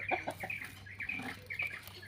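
Chickens cluck softly in short scattered calls, somewhat distant, over a low steady hum.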